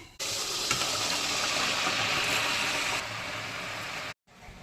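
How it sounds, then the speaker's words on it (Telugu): Rice flour murukku dough drops into hot oil and erupts in a loud, even frying hiss that holds steady, eases slightly, then cuts off abruptly near the end. "వేస్తున్నా అండి, నూనె కాగింది"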